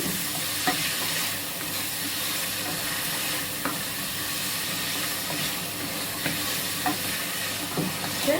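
Beef for Arabian kabsa cooking in a pressure cooker, a loud continuous hiss of steam and sizzling with faint scattered clicks, close and steady throughout.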